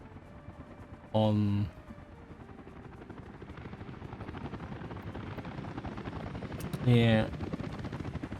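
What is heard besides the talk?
helicopter in video game Workers & Resources Soviet Republic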